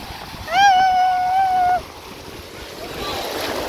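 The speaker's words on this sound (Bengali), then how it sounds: "ঢেউটা দেখো আসছে দৌড়ে" Sea waves at Bakkhali beach wash in as a steady surf hiss that swells toward the end. Early on, a clear, sustained high-pitched call rings out over it.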